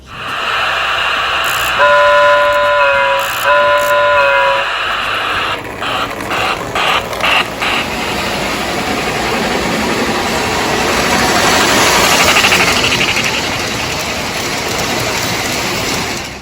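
A Lionel 6-8406 Hudson model locomotive pulling five post-war 2500-series cars runs at full throttle with a loud steady rumble and clatter, opening with two long whistle blasts and a run of short chuffing bursts.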